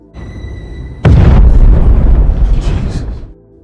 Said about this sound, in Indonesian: tiba-tiba unit apartemen tersebut meledak